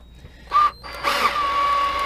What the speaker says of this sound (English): I'm actually pulling up on the drill while the screw is going in